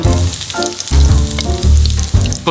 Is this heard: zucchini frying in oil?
yes